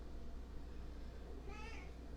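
A pet cat meows once, briefly and somewhat faintly, during a quiet indoor tarot card reading, with a steady low hum underneath.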